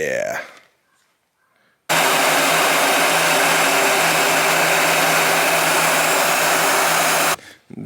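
A heat gun blasting steadily while shrinking heat-shrink tubing over LED light wiring, a loud, even roaring hiss that starts abruptly after a quiet pause and holds constant for several seconds before cutting off.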